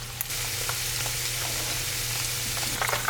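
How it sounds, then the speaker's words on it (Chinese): Chicken pieces deep-frying in hot oil in a wok, a dense, steady sizzle with crackling pops scattered throughout, close and with no voices. "油热了，然后我们要把鸡肉下到锅里"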